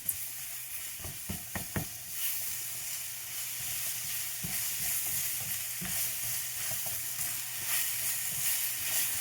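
Vegetables sautéing in a hot pan for sweet and sour prawns, a steady broadband sizzle running throughout with a few sharp utensil scrapes and clicks near the start and occasional stirring knocks.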